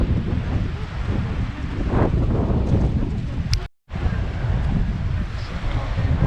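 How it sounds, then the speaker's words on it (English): Sea waves at Portixol, Mallorca wash and rumble against the shore under gusty wind buffeting the microphone, with a brief dropout midway, and no talk. "Waves are picking up a little bit."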